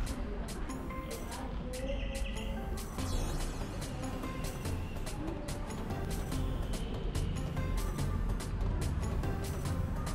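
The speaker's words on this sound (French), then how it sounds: "Regardez ces petits oiseaux, comment ils sont trop mignons." Small colourful birds chirp on temple grounds in Chiang Rai. Many quick, bright tweets repeat over a constant outdoor hum with faint traffic, moderately near and steady throughout, with no talk.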